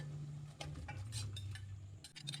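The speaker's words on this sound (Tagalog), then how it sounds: "Haluin lang ulit natin hanggang sa malagyan ng sauce ang lahat ng hipon" A utensil stirring buttered shrimp through sauce in a pan, soft scraping and scattered light clinks over a low sizzle, close and quiet.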